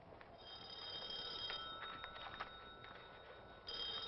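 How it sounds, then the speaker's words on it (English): An old-style telephone rings in a vintage comedy scene set in a professor's office, with a shrill bell that repeats several times at moderate loudness and no voices over it. "Will you answer your phone, you big clown?"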